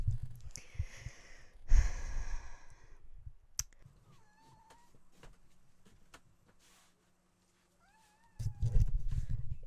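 A white cat gives two faint, drawn-out meows several seconds apart, surrounded by close rustling and handling noises and a soft click, with no talking.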